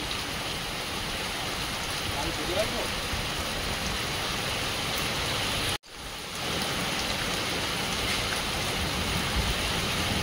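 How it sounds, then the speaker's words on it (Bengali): Heavy rain pours down steadily in a dense, loud hiss, broken by a single brief dropout partway through. "হেভি বৃষ্টি হচ্ছে"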